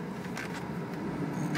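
A 2004 Dodge Ram diesel 4x4 pickup in four-low is shifted into reverse, its steady engine rumble carrying a few faint clunks and whines from the drivetrain, with no talk over it.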